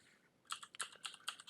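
Computer keyboard keys tapped in a quick irregular burst of about a dozen close, crisp clicks after a brief quiet start, no voices.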